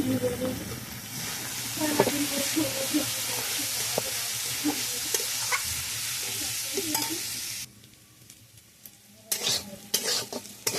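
Potatoes fry with green chilli, onion and turmeric in a pan, giving a dense continuous sizzle with frequent stirring clatter; the sizzle drops away partway through, and faint voices surface briefly.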